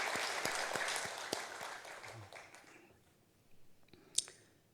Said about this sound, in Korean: 우리 감사한 마음으로 다시 한번 박수 한번 쳐주면 좋을 것 같아요.